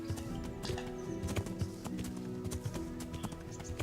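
Horse hooves clip-clopping in the Kingdom Come: Deliverance video game, a steady rhythmic trot of hoofbeats on the ground, close and fairly loud, with no talking.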